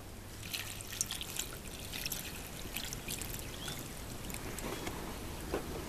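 Water runs into a pot for parboiling stinging nettles outdoors, a faint, steady trickling and splashing pour with small bright spatters, heard quietly with no talk.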